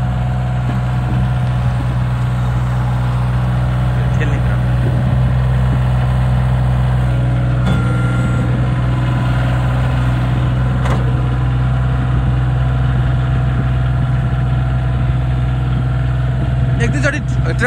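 A tractor engine idles steadily through the whole stretch during snow clearing at a farmhouse, a loud, continuous low rumble with people talking over it.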